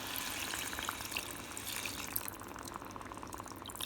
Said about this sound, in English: And you can add in some water